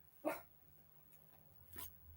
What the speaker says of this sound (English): that ridiculous dog standing there at the back door barking